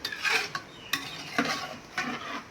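A fried garlic mixture being stirred in a pan, a series of four or five close scraping strokes with light sizzle underneath and no talking.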